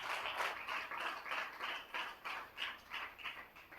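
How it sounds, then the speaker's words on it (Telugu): Church audience applauding in praise to God during a testimony: faint, rhythmic clapping in a steady pulse of quick claps, moderately distant and without talk. "చప్పట్లు కొట్టండి దేవునికి స్తోత్రం."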